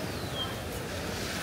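Sea waves washing ashore at Ferry Beach on Koh Tao, Thailand, a steady broadband surf wash with some wind, continuous and moderately close with no talk.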